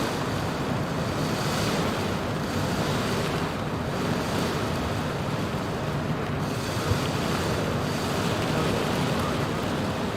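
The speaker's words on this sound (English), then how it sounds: "Ooh, the wind's moving around quite a bit here now" Wind roaring around an aircraft in Microsoft Flight Simulator on a flight into Cyclone Freddy: a continuous, dense rushing noise with slight swells, steady and enveloping throughout, with no one speaking.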